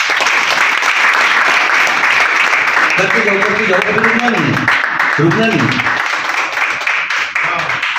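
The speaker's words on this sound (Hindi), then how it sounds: "आप ताली बजाते जाओ" A home-meeting audience claps continuously in a dense, unbroken stream of applause while a voice talks over it partway through.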